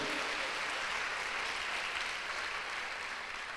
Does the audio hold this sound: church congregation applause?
yes